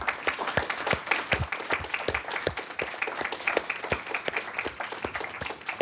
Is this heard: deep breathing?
no